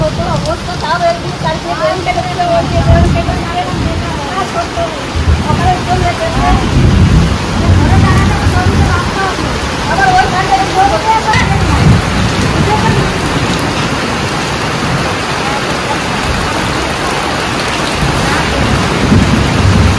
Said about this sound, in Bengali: ভালোই জোরে নেমে গেছে বৃষ্টিটা।